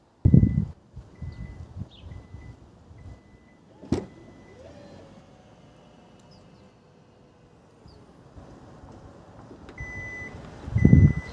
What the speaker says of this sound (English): So you walk up, it'll beep 4 times.